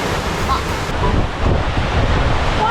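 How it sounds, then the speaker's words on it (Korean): Ocean surf washes and crashes continuously on the coast near Gyeongju, South Korea, mixed with heavy wind rumbling against the microphone. "이 파도가 나를 불렀어요."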